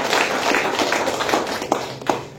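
An audience at a business seminar claps briefly for Tri-Eye, a short burst of close, dense hand claps that fades into a few scattered claps.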